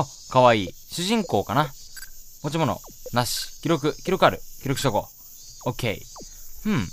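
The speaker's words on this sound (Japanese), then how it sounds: "セミが鳴いてる。" Cicadas drone in a summer town scene of the horror game Kuro no Kanoke, a steady high buzz running beneath a person talking throughout.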